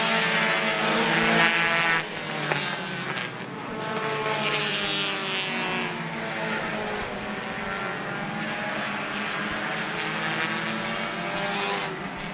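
Race cars roar around Citrus County Speedway on the final lap of an October 2023 race, a loud, sustained engine drone with rising and falling pitch as the cars pass, with no talk over it.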